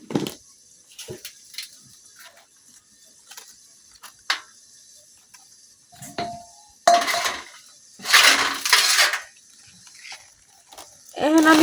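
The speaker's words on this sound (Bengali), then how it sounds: "এখন আমি এই বাঁধাকপিটা খুব সুন্দরভাবে কাটতে লইলাম, চিকন চিকন করে।" A knife thinly slices cabbage in a village kitchen: sharp, irregular cutting clicks sound close by, separated by quiet gaps, along with a few longer crunchy, rustling bursts.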